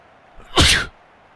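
One loud, sharp sneeze bursts out close to the microphone against near silence, lasting about a third of a second.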